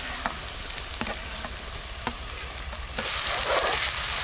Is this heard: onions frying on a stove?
yes